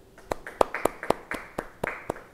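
Scattered, sparse claps from a church audience during a Bible study sermon, a handful of separate sharp hand claps spaced irregularly, fairly faint and close, with no talking over them.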